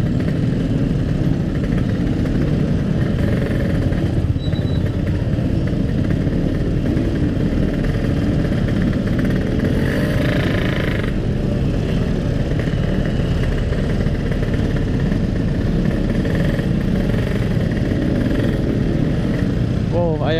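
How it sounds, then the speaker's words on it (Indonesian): A Yamaha RX King motorcycle engine idling, a steady, unbroken two-stroke putter with a low raspy exhaust throughout, close by, while people talk over it. "yang ngerepek gitu motor"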